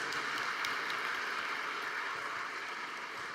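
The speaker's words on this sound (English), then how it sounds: "I think that performance deserves another round of applause" An audience at a plenary session applauds steadily, a dense wash of clapping at even volume that holds throughout with no voices over it.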